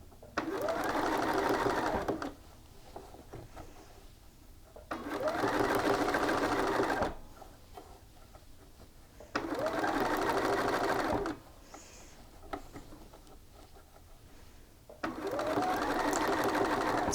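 A sewing machine stitches the side seams of a shirt in four even bursts of about two seconds each, separated by quiet pauses, close and clear with no talking.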